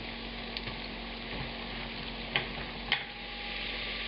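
Cabbage and chopped shallots fry quietly in a hot pan over medium heat, a soft steady sizzle with a couple of sharp clicks from a utensil against the pan.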